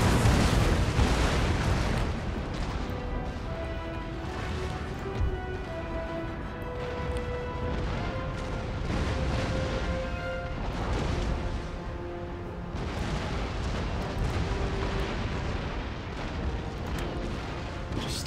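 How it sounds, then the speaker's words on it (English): Warship cannon fire in the naval strategy game Empire Total War, with chain shot aimed at sails: a dense, continuous rumble of booming broadsides and explosions layered over steady game music, loud throughout. "This guy keeps firing a chain shot up into the sails."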